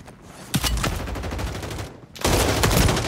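Rapid gunfire rattles from a video game in loud, sustained bursts, breaks off for a brief moment, then resumes just as dense.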